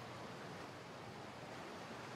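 Waterfall ambience in the video game Mass Effect: Andromeda, a constant soft broadband rush of falling water, even and unbroken, heard alone at low level.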